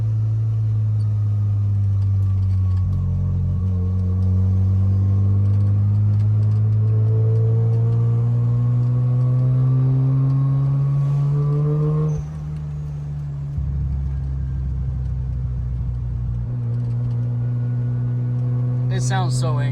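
Mazda RX-7 FC turbo II rotary engine with a 3-inch catless downpipe, a loud, close drone that rises steadily under acceleration, drops sharply, then settles into a steady idle-like hum.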